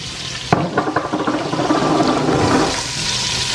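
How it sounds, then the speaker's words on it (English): Diced onion frying in hot oil for prawn fried rice, a sharp clatter as it drops into the pan, then a steady loud sizzle with scattered crackles that fades after a few seconds. "Now I'm going to add the diced onion in oil to my oil here and fry this for another 5 minutes"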